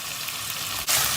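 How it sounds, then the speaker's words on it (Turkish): Carrots sauté in hot oil, a steady close sizzle that swells suddenly louder near the end as they are stirred. "Havucuyla şöyle bir iki kere karıştıracağız. Ortalama bir dakika kadar kavuracağız."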